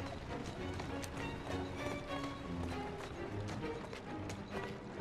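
Steady clip-clop of horse hooves trotting at an even pace in the video game Assassin's Creed Syndicate, close and continuous, with no talking.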